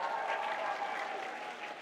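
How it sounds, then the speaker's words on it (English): A crowd at an outdoor march gives a steady, dense round of applause, close and continuous for the whole short stretch. "Give yourselves a round of applause"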